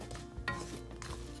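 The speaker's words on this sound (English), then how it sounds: "Just continue to stir them, keep an eye on it so the bottom doesn't burn" Walnuts stirred in maple syrup and butter in a pan over very low heat make soft scraping and gentle bubbling sounds, with a couple of brief louder stirring strokes.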